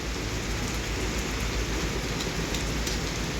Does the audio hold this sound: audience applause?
no